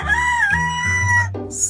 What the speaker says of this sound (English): Super Rooster Rocco loves to crow.